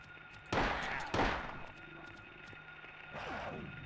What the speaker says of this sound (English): Gunshots in a hospital?